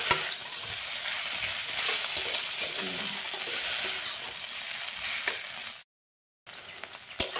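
Potato pieces fry in a hot pan with spices, sizzling steadily while a spoon stirs and scrapes them at close range, broken by a brief silent gap near the end.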